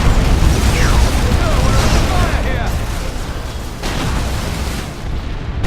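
A key structure is destroyed in a loud explosion in the strategy game Dawn of War 2 Retribution, a dense, sustained roar of blasts and rumbling debris with a voice speaking over it.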